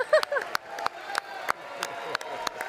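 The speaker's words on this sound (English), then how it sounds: "It was Mike Johnson clapping right into his microphone." Mike Johnson claps right into a microphone during a joint presidential address, a steady run of sharp, close hand claps roughly every third of a second, with faint crowd murmur beneath.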